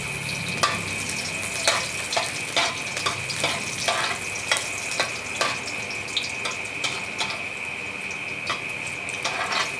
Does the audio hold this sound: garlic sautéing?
yes